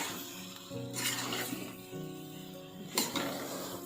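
Potato curry with spices being sautéed in a pan, a soft low sizzle under the scrape and clink of a metal spoon stirring, with one sharper knock against the pan.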